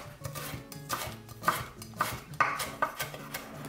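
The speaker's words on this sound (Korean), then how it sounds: "얇게 채 썰어서 준비할게요." A knife cuts carrot into thin julienne strips on a board: a close, steady run of about seven crisp chops, each with a light metallic click, spaced roughly half a second apart.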